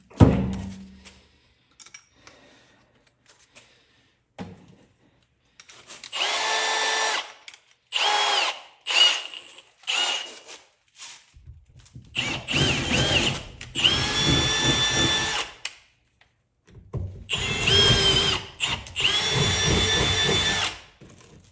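Power drill boring a hole while installing a Giraffe G20 pressure washer, several loud whining bursts of a few seconds each separated by pauses, with the motor revving up and down close by.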